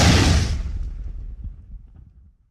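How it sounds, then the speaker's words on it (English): An explosion sound effect in a physics animation: one loud, broad boom at the start that rumbles and fades away over a couple of seconds, heard alone without talk. "there is an explosion."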